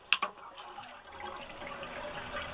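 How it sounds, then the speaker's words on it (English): Water running and draining from a sink while raw wool fleece is washed, a steady faint wash of liquid with a couple of brief clunks near the start. "you just want to keep clearing the drain while this drains out"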